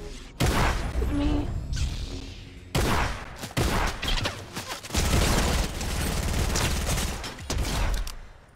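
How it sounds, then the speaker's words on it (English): Heavy gunfire in Fortnite crackles in dense, loud bursts, with several rapid volleys separated by brief gaps, and a faint voice is heard once. "A lot of shooting."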